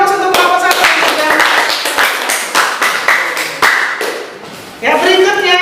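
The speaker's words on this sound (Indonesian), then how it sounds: "kita akan beri aplaus untuk kelompok 1 ya" A school class applauds a student group, a burst of clapping hands that thins out in the middle and swells again near the end, with voices mixed in.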